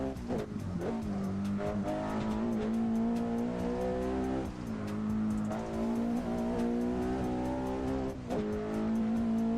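A race car in the Assetto Corsa driving simulator drones at a steady high pitch, the engine note rising and dipping slightly as it holds speed, loud and continuous with no voices.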